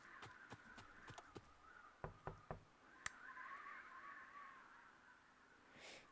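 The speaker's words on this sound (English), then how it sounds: "And knock on the front door." Knocks on a front door in the Figment video game, a series of sharp, evenly spaced raps in short bursts, fairly close and clear over a faint hiss, with no talking.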